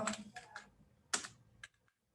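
Fingers type on a computer keyboard in short close bursts of quick key clicks with brief pauses between them, ending in a few isolated taps and then quiet.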